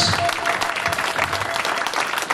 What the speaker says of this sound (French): est-ce que quelqu'un peut applaudir le seigneur pour ce grand témoignage